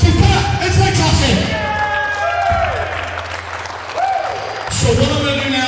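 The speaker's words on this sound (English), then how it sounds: "one more big round of applause for Pat and Frank Trotsky" A crowd at the Sanctuary Stunt Studio fake fight club tryouts gives a loud, sustained round of applause for Pat and Frank Trotsky, with whoops, shouts and voices mixed in and a few swells as the clapping carries on.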